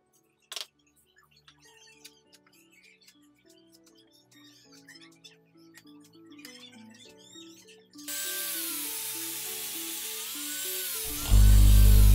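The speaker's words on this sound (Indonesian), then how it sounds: "langsung diamplas menggunakan gerinda agar halus" An angle grinder sands a reclaimed wooden pallet crate, starting abruptly as a loud, steady broadband whine that runs continuously to the end, preceded by quieter tonal music-like sounds.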